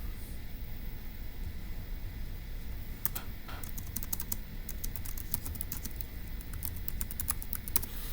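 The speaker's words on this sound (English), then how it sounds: "let's go ahead and type that up" Quick, irregular clicks of a computer keyboard being typed on, soft and close, starting about three seconds in over a faint background hiss, with no voices.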